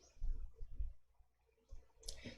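Quiet computer mouse clicks at a desk during Excel spreadsheet work, a few soft taps close to the microphone with a sharper click near the end.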